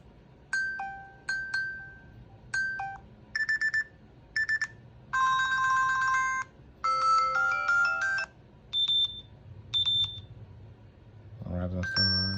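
Samsung Galaxy Watch 3 ringtone previews, a series of bright, short chiming melodic phrases played one after another with brief gaps, fairly clear and close, with a rustle at the end.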